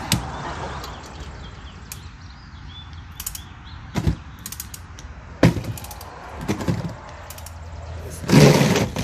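A torque wrench set to 100 foot-pounds works on a Ford Flex wheel hub during bearing and CV axle replacement, with scattered sharp metallic clicks and clanks among ratcheting and shifting tools in a garage, fairly close and loud.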